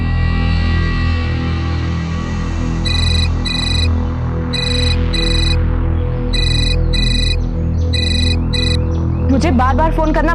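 An electronic phone ring chirps in four short paired bursts over a steady low hum, with a warbling electronic tone rising at the end.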